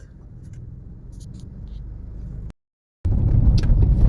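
Road traffic on the mountain route to Chopta, with a continuous low rumble of cars and vehicles that builds, cuts out briefly, then returns louder and close by.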